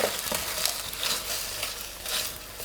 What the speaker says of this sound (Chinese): 倒入筛油丸子，加黑芝麻，